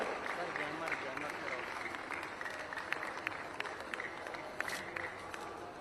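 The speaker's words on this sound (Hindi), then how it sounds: "आप सभी की जोरदार तालियां इन सुंदर क्षणों के लिए।" Large festival crowd applauding at the closing ceremony of the Gorakhpur Mahotsav, a continuous distant roar of many hands clapping with scattered sharp claps standing out, heard without talk over it.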